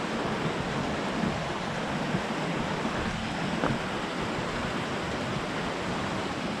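Steady broadband rush of the Bonawan River flowing along a remote mountain trail, continuous and fairly loud, with no talking.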